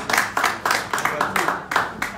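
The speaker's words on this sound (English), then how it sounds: "Round of" An audience at a political fundraising event in Columbus, Ohio claps in rhythmic bursts of applause, fairly close and steady.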